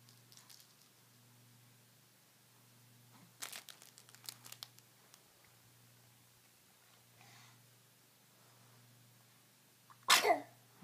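A baby sneezes once, sharp and close, after a stretch of soft rustling and crinkling from a burp cloth being handled nearby.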